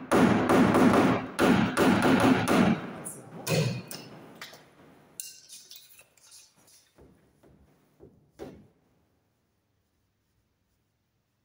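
Sharp metal taps on a hail-dented car body panel as a fine-tipped tool and hammer flatten the dents, rapid clustered knocks at first, then sparser, fainter taps trailing into silence.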